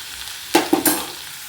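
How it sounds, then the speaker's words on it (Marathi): Bitter gourd frying in a pan over a medium gas flame gives a short burst of sizzling and a few quick stirring scrapes, loud and close, then settles back to a faint hiss. "आता ह्या काढलेला आपण छान फ्राय करूयात मीडियम गॅसवर छान फ्राय करूयात"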